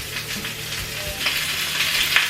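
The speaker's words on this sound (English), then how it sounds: "You hear all that crackling?" Steady frying sizzle with bursts of crackling and popping from a hot pan, close and continuous, no voices.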